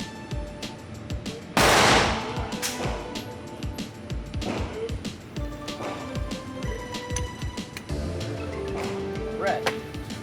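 Gunfire from a live-fire shooting exercise at an event range: a loud sharp shot burst near two seconds, then further scattered reports and clattering impacts over a noisy background with people talking.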